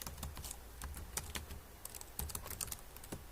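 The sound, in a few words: typing text on computer keyboard in Canva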